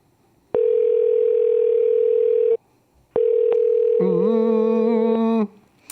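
An unanswered telephone call: two long, steady ring tones sound loud and clear with a short silence between them, and the second one shifts into a wavering multi-tone signal near the end.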